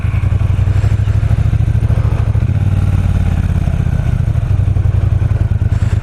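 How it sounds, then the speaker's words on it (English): A Triumph T120 Bonneville parallel twin motorcycle engine running steadily nearby, with a loud, throbbing low grumble and a slight rise in revs partway through, and no talk. "that parallel twin has got a nice grumble to it"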